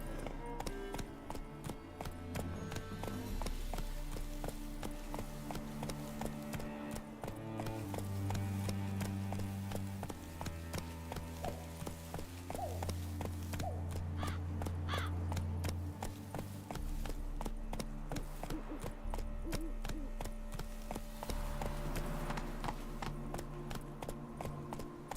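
Roach, a horse in The Witcher 3, gallops with steady rhythmic hoofbeats under continuous game music, the clip-clop running throughout at a close, even level.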